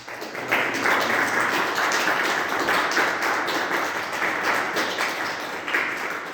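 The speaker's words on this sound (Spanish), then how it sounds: "Un fuerte aplauso a él" A church congregation applauding together, a sustained wash of clapping filling the room at steady loudness for several seconds without speech.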